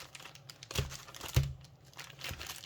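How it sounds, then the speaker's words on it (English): Trading card packs for the One Piece Card Game are shuffled by hand, giving soft crinkly rustles and two sharper slapping bursts, fairly quiet and close, with no talking. "Get some pack shuffling ASMR."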